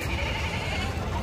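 Goats bleating at the Gudur sheep and goat market, sounding as a dense, continuous chorus of overlapping animal calls amid steady crowd noise, with no single bleat standing apart.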